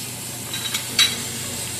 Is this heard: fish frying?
yes